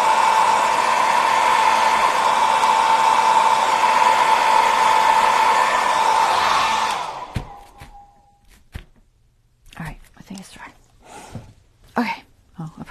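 A hair dryer blows steadily and loudly for about seven seconds to dry a handmade nature journal, then shuts off, followed by a person talking quietly and faint handling sounds.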